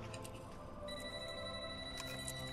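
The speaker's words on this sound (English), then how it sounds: "Your cell phone's ringing." A cell phone ringing in the No More Heroes video game, a thin electronic ringtone with repeating tonal pulses over a low game soundtrack, short and fairly faint.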